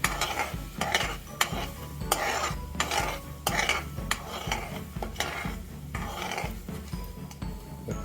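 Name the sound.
white radish sautéing in a pan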